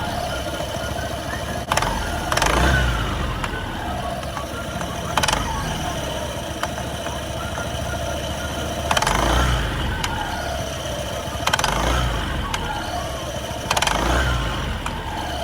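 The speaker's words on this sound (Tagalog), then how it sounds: "Every time na magbibitaw ng silinyador," A Honda PCX scooter idling nearby, with repeated short engine surges and distinct knocks or clunks every few seconds as the throttle is released, a recurring cycle over a steady engine drone.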